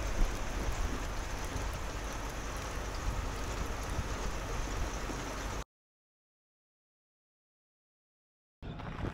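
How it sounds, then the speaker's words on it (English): Steady rain falls on a drive from Peterborough in South Australia, a soft even hiss that cuts to silence partway through before briefly returning. "it's still refreshing to see a bit of rain"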